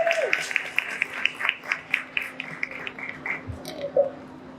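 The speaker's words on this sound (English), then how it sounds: "Give him a round of applause." At the Young, Gifted & Green 40 Under 40 awards ceremony, a small audience claps for honoree Chris Hahn, with distinct, fairly sparse individual claps in a quick, uneven rhythm that thins out toward the end.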